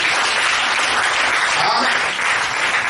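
A congregation at a church service applauds in a steady, dense burst of clapping that fills the room, loud and continuous with no break.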